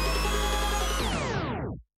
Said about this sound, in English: at the very end, as a transition between the buildup and the drop, I have this tape stop here.